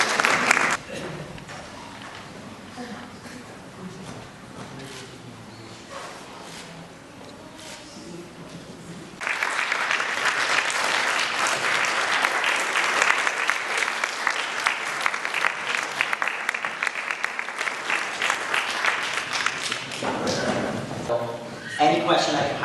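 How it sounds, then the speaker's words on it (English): Audience applause at an evening award ceremony, a sustained wash of clapping that swells loud after a stretch of speech and continues steadily, with talking heard before it begins. "Please give them all a round of applause"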